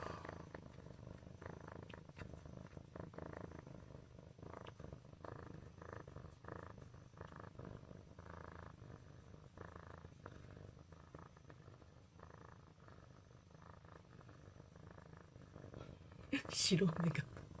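A black kitten purrs steadily and close up in a continuous low rumble, with someone speaking quietly over it and a brief louder rustle near the end.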